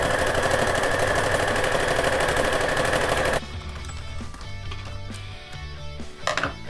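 A sewing machine stitches fleece for a doll hat and scarf, running as a loud rapid continuous rattle for a few seconds before stopping, then soft handling noises and faint clicks follow.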